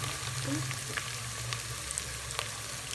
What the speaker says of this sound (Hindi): ताकि हमारा टमाटर भी इसके साथ साथ फ्राई हो जाए अच्छे से